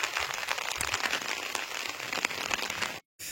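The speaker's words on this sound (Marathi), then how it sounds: "खूप जोराचा पाऊस आला बघा" Heavy rain falling near a village farm, a bright continuous hiss of drops pattering on surfaces, close and steady before a sudden brief cut to silence.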